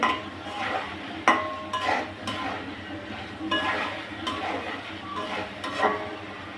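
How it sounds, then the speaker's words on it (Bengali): Pointed gourd (potol) being stirred into spices in a pan, with repeated scrapes and clinks of a spoon against metal and a soft sizzle underneath, steady and close. "পটলগুলো ভালোভাবে মশলার সাথে মিশিয়ে নিচ্ছি"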